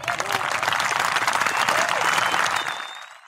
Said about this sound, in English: We'd just like to stand up and give you a little round of applause.